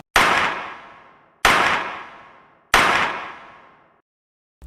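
Three loud, sharp gunshots ring out one at a time at an even pace. Each crack is followed by a long fading echo, with nothing else heard in between.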